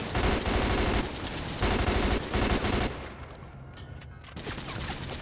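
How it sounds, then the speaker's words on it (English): Dense bursts of automatic gunfire rattle loud and close in a GTA 5 gang shootout, coming in sustained volleys with short gaps before fading into scattered distant shots. "Oh, of course you're gonna open fire on me. They shooting at the other gang."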